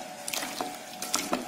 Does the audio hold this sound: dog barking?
no